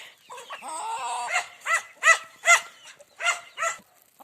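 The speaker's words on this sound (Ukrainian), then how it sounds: "Ось мої кури, їдять зерно суміш." A dog barks and chickens eating mixed grain cluck nearby in a series of short, repeated calls, fairly close with little background noise.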